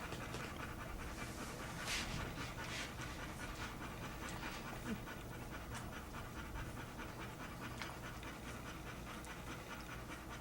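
Two-week-old puppies panting, quick breathy hisses close to the mic over constant background noise, with faint intermittent whimpers.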